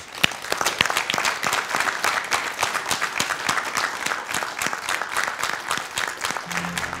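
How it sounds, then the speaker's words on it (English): A studio audience gives a big round of applause for contenders and judges on a competition show, dense steady clapping with sharp individual claps throughout. "Let's give our contenders and our judges a big round of applause."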